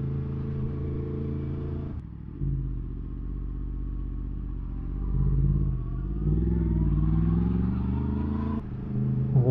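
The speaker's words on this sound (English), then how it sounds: "spoiling the peace with my noisy exhaust" A Yamaha motorcycle with a baffle-less exhaust idles and revs loudly, throaty and unmuffled, rising and falling in pitch, close by, at a quiet Lake District slate quarry.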